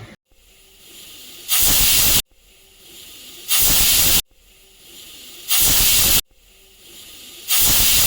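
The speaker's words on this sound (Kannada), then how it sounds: "ಈಗ ಕುಕ್ಕರ್ 4 ವಿಸಿಲ್ ಆಗಿದೆ" A pressure cooker cooking pongal whistles four times, each a loud, harsh burst of hissing steam lasting under a second, separated by quieter bubbling pauses at regular intervals; close by, no talk.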